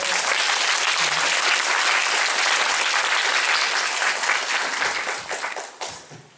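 A theater audience at a film festival Q&A applauds the cinematographer, sustained dense clapping from many hands that holds steady and then thins and fades out near the end.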